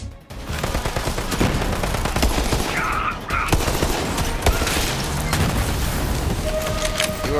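Sustained heavy gunfire in the shooter Borderlands 3, loud overlapping bursts and booms forming a near-constant barrage throughout.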